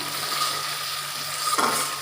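Hilsa fish cooks in mustard and poppy seed paste, a soft continuous sizzle with a light stir or scrape near the end, no voices.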